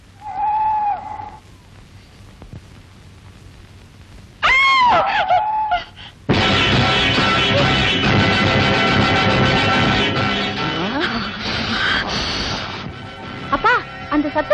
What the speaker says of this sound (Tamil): அவதான் இப்படி சமயத்துல அலறுவா